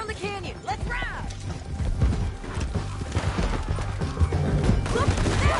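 Horse hooves clatter amid a busy game mix of mechanical clanks, whinnies and distant crashes, with voices talking over the action.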